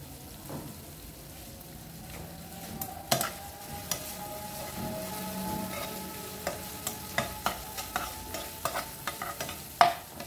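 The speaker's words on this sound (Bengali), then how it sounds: "বিনসটা দিয়ে এরকম হালকা নাড়বো।" Sliced beans stirred in a frying pan while cooking vegetable Maggi, with a steady low sizzle under scraping, clicking stirs that grow quicker and sharper toward the end, close by.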